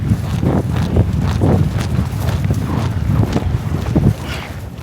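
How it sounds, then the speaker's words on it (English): Horses gallop across a wide, flat mountain pasture in the Sierra Nevada. Their hooves pound in a quick, irregular clatter that stays loud and close throughout, with no talking over it. "big, flat, wide-open mountain pastures are the perfect place to let your pony run"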